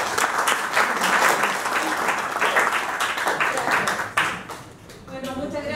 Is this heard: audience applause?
yes